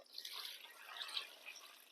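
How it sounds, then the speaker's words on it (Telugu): Cold water poured while making malpuri batter with sugar runs in a soft, thin, trickling stream. It is faint and close, with small splashy fluctuations and no talk. "ఇది వాటర్ పోసుకుందాం"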